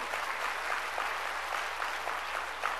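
A congregation during a sermon claps in steady, rhythmic applause, with many hands beating together at a fairly even pace, moderately distant over a low background hum.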